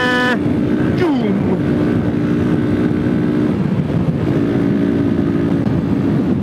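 A small motorbike engine, a Vespa ET4 or Honda Monkey with a loud exhaust, drones and revs loudly nearby in the countryside, its exhaust buzzing with pitch shifts as it changes speed; wind buffets the microphone.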